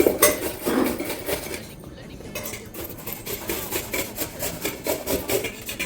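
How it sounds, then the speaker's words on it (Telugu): Pieces of peeled ash gourd are grated by hand in quick repeated scraping strokes. The sound is close, rhythmic and rasping, with a brief pause partway through, and a voice talks over it. "పైన చెక్కు రాకుండా నీట్గా తురిమేసుకోవాలి"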